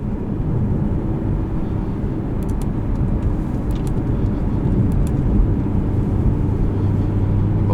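A 2018 Audi R8 cruising in comfort mode, with a steady broad engine and road roar from inside the cabin, constant and fairly loud with no talk.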